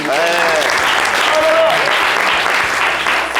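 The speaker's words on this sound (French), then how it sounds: "Les amis, on peut s'applaudir très fort." Studio audience applause during a French midday show, loud dense clapping with cheering filling the whole moment, a voice briefly rising over the crowd.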